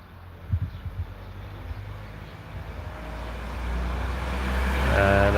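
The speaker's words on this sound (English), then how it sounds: "despite a very busy street suddenly," Traffic on a busy street in Portugal, with a few close knocks at first, then a rising rumble as vehicles pass and approach, growing louder toward the end.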